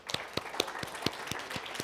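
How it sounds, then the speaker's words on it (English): Applause for high school quiz teams at an A-Team Challenge semifinal: a steady patter of claps, faint and thin, as if from a small audience, lasting about two seconds. "Let's give them all a round of applause."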